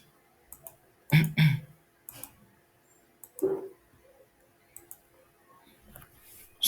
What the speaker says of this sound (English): Okay, so I'm gonna click here.